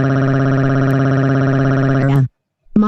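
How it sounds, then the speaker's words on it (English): An air horn blasts indoors in a bedroom where a child is napping: one loud, sustained, brassy blare lasting about two seconds, cutting off abruptly, then a second blast starting right after a brief silence. "I'm going to wake him up with an air horn."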